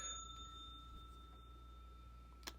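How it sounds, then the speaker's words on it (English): A bell rings with a sustained, steady tone over a low hum, fading gently, with a faint tap near the end; no talking. "Thank you for the bell."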